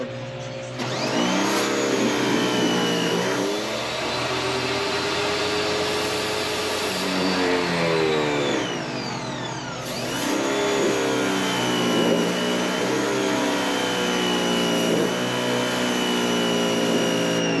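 Pressure washer cleaning a clogged air-conditioning condenser, a loud, steady motorized whine that shifts in pitch as it bogs down and recovers, running continuously throughout.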